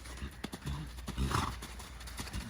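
A horse's hooves thud in a steady three-beat rhythm during a long-rein canter in an arena, close and fairly quiet, with light tack jingle.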